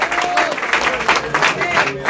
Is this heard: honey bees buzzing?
no